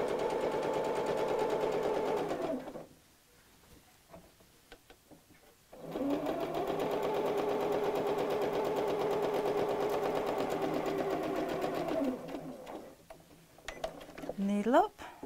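A sewing machine stitches a craft mat bag in steady whirring runs, with a pause near the middle and a stop toward the end, while someone talks over it.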